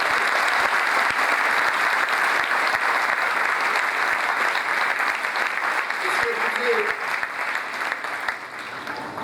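A seated audience applauds to welcome the chairman of a Sathya Sai health and education trust at a public event in Naya Raipur, producing dense, steady clapping that fades slightly toward the end, with a brief voice heard partway through.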